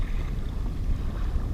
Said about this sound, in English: It's pretty windy out here now.